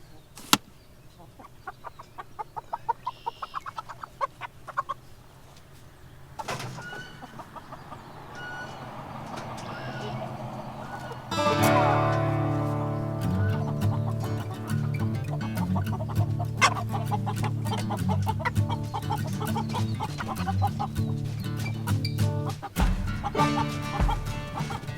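American Bresse pullets cluck on pasture, a busy near flock of many overlapping calls that grows louder and denser partway through, with scattered sharper squawks over a steady outdoor background.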